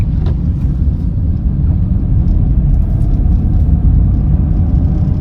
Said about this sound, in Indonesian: RPM udah mulai naik, oper ke gigi 2.